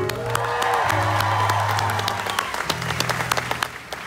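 A concert audience at Epcot claps and cheers for the spotlight operators perched up in the trusses, a steady, dense wave of applause with scattered whoops that stays loud throughout.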